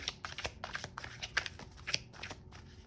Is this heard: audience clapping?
no